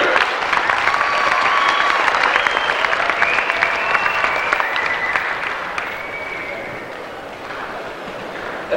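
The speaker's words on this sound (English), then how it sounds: "please give a warm round of appreciation and applause for all our Proficiency Award winners" Audience applause for FFA Proficiency Award winners at a state leadership conference session, a steady sustained round of clapping from a large crowd filling the whole stretch, with some voices mixed in.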